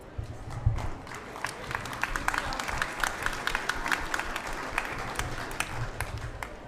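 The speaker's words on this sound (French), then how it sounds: "Et là encore une fois, nous allons l'applaudir." An audience applauds at a literary prize ceremony at a book fair in Brive, steady mid-level clapping throughout with a low murmur and rumble from the room beneath.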